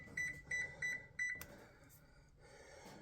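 An oven timer beeps during muffin baking, four short electronic beep bursts in a steady pattern, fairly loud and close, followed by a brief clatter and quiet kitchen background.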